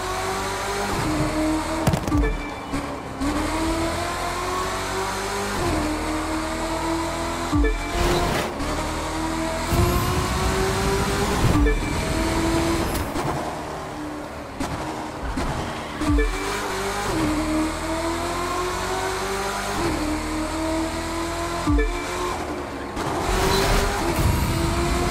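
Race cars in the United States Speed Tour thunder around a Seattle street circuit beside the monorail, engines revving high and rising through gear changes, with repeated pass-bys, tyre squeal and brief drops in the roar across the stretch.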